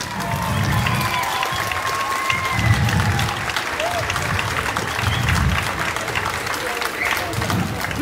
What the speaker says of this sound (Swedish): Så en stor applåd för alla lärarna som är här!